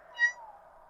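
A cat gives one short, clear meow that is fairly faint and close, followed by a low steady hum, with no voices.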